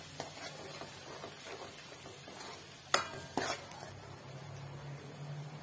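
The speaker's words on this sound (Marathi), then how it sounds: "वाटण तेलामध्ये घातल्यानंतर चांगलं परतून घ्यायचंय" Ground coconut masala paste sautés in oil for a besan vadi amti, with a soft, steady sizzle and quiet stirring, broken by a couple of sharp spoon clacks against the pan midway.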